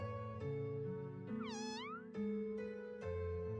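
A cat in the OMORI game lets out a single rising-and-falling meow over a sustained tonal background, heard clearly and alone with no talking.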